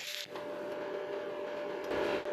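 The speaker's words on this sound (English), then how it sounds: "I'll weld up to halfway so you can compare it to the other electrode." A stick welding arc burns from a metal electrode, giving a close, sustained crackling hiss with a faint steady tone, and no one talks.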